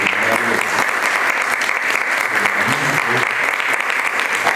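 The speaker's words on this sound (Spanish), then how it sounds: "También un aplauso al maestro." Audience applause at a Spanish-language book presentation on ballet and modern dance in Veracruz, a steady, dense clapping that fills the room without pause for several seconds, with no speech over it.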